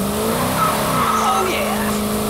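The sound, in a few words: Dodge Challenger accelerating hard, tires squealing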